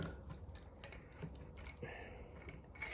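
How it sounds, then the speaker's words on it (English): Howa .308 barrel and action being lifted out of a rifle stock, giving quiet clicks, scrapes and small mechanical rattles over a faint steady background. "Remove the barrel action from the stock."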